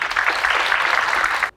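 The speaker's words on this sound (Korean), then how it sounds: "큰 박수로 맞아주시기 바랍니다." An audience applauds to welcome a speaker at a startup founders' event, a short burst of dense clapping that stops abruptly.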